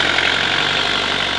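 A car engine idles smoothly and steadily after a loose, noisy fan belt has been adjusted, an even, close mid-pitched hum with a regular low pulse and no squeal.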